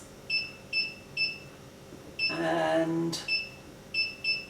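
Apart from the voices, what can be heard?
beeps of ultrasonic machine as timer is set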